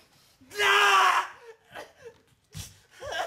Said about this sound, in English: The screams of a small boy would emit through the walls on a nightly basis.